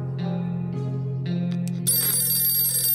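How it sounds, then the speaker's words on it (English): A telephone in the video game 60 Seconds rings with a steady electronic tone that pulses in short bursts and then shifts to a brighter, sustained ring, loud and clear with no talk over it. "And the phone's ringing again."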